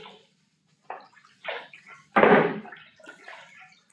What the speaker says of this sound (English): As I've done earlier, I'll wash the paddle.